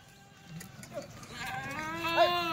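Kathiawadi goats on a farm let out a few nasal, wavering bleats that rise in strength toward the end, close by over faint background noise.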